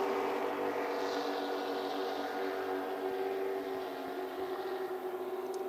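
Offshore racing powerboat engines roar in a sustained, droning mass heard from a distance at a race start-finish line, steady and broad with a slight fade near the end.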